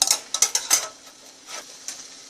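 Stir fry being tossed and stirred in a hot pan: several quick scraping, clattering strokes with a sizzle, loud at first and then easing into softer occasional stirs, close up and with no voices.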